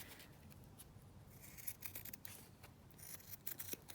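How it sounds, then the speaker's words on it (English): Scissors snip and trim the back edge of a paper ephemera piece, giving a few soft, close cuts and light rustles of paper over a low, steady room hum. "Let's just trim off at the back."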